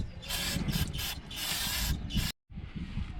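Brake cleaner sprays in a steady loud hiss onto front brake parts of an MK4 VW GTI/Jetta, several long bursts, close by, then a brief break before a final burst.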